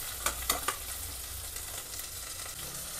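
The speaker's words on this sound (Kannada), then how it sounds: "ಅದನ್ನು ಚೆನ್ನಾಗಿ ಫ್ರೈ ಮಾಡ್ಕೊತಾ ಇದ್ದೀನಿ." Garlic and chilli frying in a pan: a steady, moderately quiet sizzle with a few early sharp spatula taps, then even crackling.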